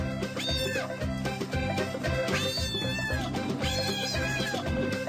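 Several cats meow loudly and insistently, their cries overlapping in a continuous, wavering chorus with no talking.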